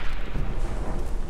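Dull, heavy thuds from grenade and mortar explosions in the World War I shooter Verdun, rumbling blasts packed close together through a short, noisy stretch of battle.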